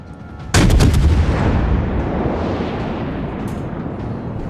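Heavy naval guns firing on enemy cruisers in World of Warships, a sudden loud booming salvo that then rolls into a long, sustained rumble of distant gunfire and explosions with no talk.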